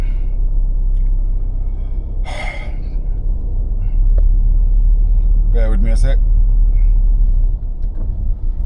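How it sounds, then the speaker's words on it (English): A car sits in road traffic, with a steady low rumble of engine and road noise. A brief hiss sounds, then someone speaks briefly over the continuous drone. "I'm actually now sitting in traffic"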